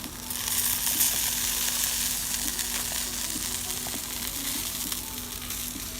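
Chicken tikka sizzles steadily in oil on a grill, a constant close frying hiss with faint crackles and a low hum beneath, no talking.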